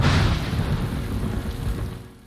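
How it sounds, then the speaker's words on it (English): Heavy rain in a film scene makes a broad, steady rushing downpour with a low rumbling undertone, loud at first and fading toward the end, no talking. "Man, it's really raining, isn't it?"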